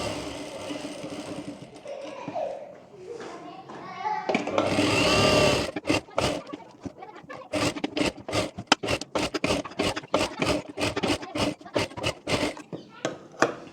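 A sewing machine stitches a princess-cut blouse in short rhythmic bursts, with cloth rustling and handling before a steady run and then rapid start-stop stitching.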